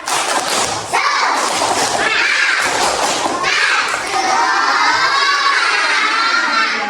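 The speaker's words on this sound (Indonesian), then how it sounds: "Ayo, tepuk semangat." A classroom of Indonesian schoolchildren shouting a rhythmic clapping chant together, loud and continuous, with bursts of claps and children's voices filling the room throughout.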